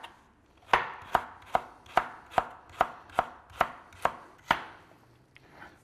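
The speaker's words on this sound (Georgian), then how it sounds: "ეხლა შევეცდები დავჭრა სტაფილო." Knife chopping a carrot into cubes on a cutting board, nine crisp, evenly spaced knocks about every half second, close and clear with no talking.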